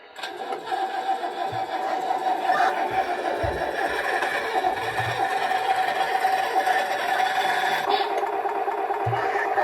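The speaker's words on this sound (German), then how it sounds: "So, dann kommen wir zu dem normalen Sound von dem Motor." A converted model vehicle's electronic engine sound effect starts up and runs as a continuous buzzing, whirring drone, steady and fairly close, with a few faint knocks and handling noises.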